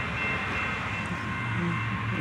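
The Amtrak Sunset Limited passenger train arrives on the Union Pacific Glidden Subdivision at Fondren, a steady low rolling rumble of rail cars that stays close and constant with no horn.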